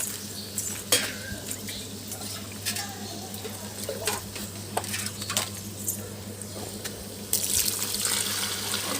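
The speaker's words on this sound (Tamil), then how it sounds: "இப்போ நம்ம வந்து எடுத்து வச்சிருக்க அளவு தண்ணியை வந்து நம்ம சேர்த்துடலாம்." Water poured into a pot of mushroom biryani, a steady running splash with stirring clatter and a brief louder rush near the end, close by.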